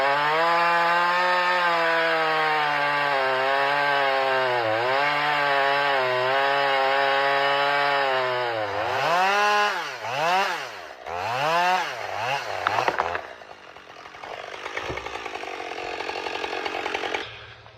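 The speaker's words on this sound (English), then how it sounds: "Loggers had to use manual chainsaws to cut down trees" A manual chainsaw from 1970s logging work, cutting down trees: a loud, steady motor drone for about eight seconds, then rising and falling revs as the chain bites into wood, ending in a rougher, choppier stretch.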